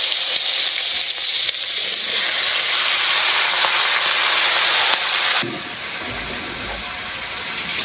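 Steam hissing from a pot of potatoes boiling in a village kitchen, a loud, continuous close-up hiss that drops to a softer level partway through, with no talk.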